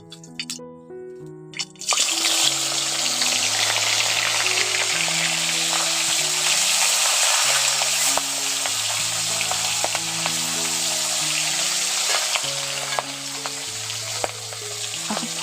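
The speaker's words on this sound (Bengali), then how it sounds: "এখন ফটফট করছে" Live stinging catfish fry in hot oil in a pan, a loud, steady crackling sizzle that bursts in after a short quiet start and continues under soft background music.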